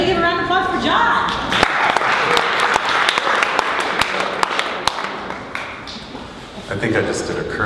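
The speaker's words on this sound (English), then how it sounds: "Everybody give a round of applause for John" Applause from a small audience follows a short spoken introduction, crisp individual claps of varying strength continuing for several seconds before voices come back at the end.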